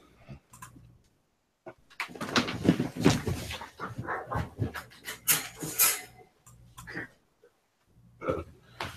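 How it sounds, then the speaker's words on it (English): A small dog whines and whimpers in a restless, uneven string of sounds with pants and snuffles mixed in, close by, sometimes broken by silence. "Little brat dog's whining."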